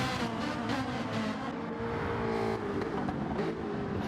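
Ferrari GT3 race cars in a racing video game, engines revving hard and holding high pitch as they battle closely, a continuous close-up roar with shifting tones and no talking.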